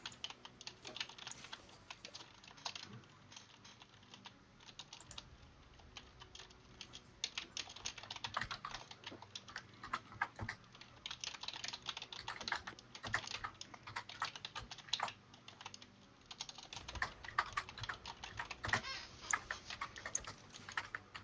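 Rapid clicky keystrokes on a computer keyboard patter on in irregular bursts and pauses, close and fairly quiet, with no talking over them.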